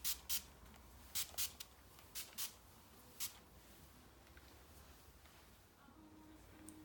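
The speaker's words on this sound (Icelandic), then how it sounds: "Ég ætla að byrja á því að spreyja L'Oreal Stylista Beach sprayinu." L'Oreal Stylista Beach spray misted onto hair: a handful of short, crisp aerosol bursts in an irregular cluster, then quiet handling noise in a calm room.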